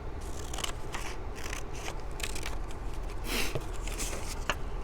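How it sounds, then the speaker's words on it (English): Scissors cut through paper along lines, with a series of crisp snipping and slicing sounds close up, repeated at an irregular pace with no talk. "Then I'm going to cut on the shorter lines"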